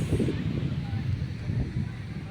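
Steady blustery seaside wind rumbles in the low end, buffeting the microphone continuously throughout, loud and close.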